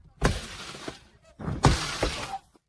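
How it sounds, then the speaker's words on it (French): Window glass smashing in two loud, separate bursts, each a sharp crash followed by a spray of tinkling shards, with a brief quiet gap between them. "Casse la fenêtre."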